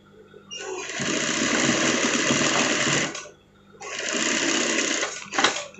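Sewing machine stitches a Doraemon-style pocket onto a sweater, running in two long steady bursts with a short pause between, close and loud, followed by a brief clatter.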